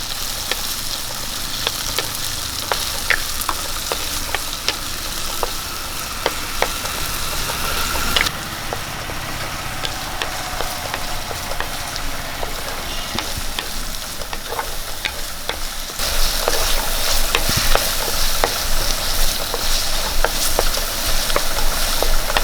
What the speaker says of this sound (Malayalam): ഒരു കാൽ ടീസ്പൂണ് പെരിഞ്ജീരകം നമുക്ക് ഇതിലേക്ക് രണ്ട് ചെറിയ തക്കാളി ഇട്ട് കൊടുക്കാം